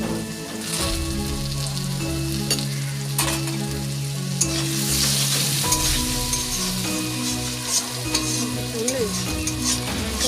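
Spice paste sizzles and fries steadily in a pan with boiled potato and salt, while a spatula stirs and scrapes now and then, loud and close under a constant hiss, with no talking.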